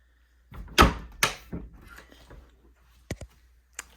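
Closet doors in a house being opened and shut, giving a few close, sharp knocks and thuds with softer rattles between and faint clicks at the end, in an otherwise quiet room.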